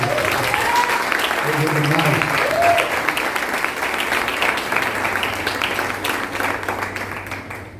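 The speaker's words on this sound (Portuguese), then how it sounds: "Você pode aplaudir Jesus por isso?" A church congregation applauds steadily for several seconds, the clapping slowly fading, with a voice briefly audible under it.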